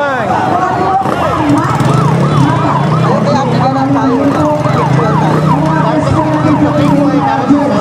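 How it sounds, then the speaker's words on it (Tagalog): An emergency vehicle siren wails continuously and loudly, close by, at a Carabao Festival street parade, rising and falling over a busy outdoor crowd. "Nadidinig na namin ang wangwang."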